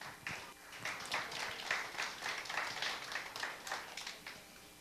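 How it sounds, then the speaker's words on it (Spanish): Audience applause for pastors at a church service, with a small group clapping at moderate distance and individual hand claps distinct in an uneven, pattering rhythm. "Un aplauso para nuestros pastores."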